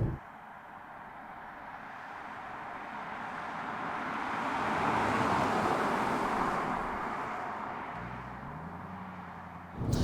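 A 2011 Lexus LS600hL hybrid in power mode with the sport gearbox setting accelerates, its smooth, muted drivetrain rising in a broad swell of engine and road noise and then easing off, heard from inside the cabin.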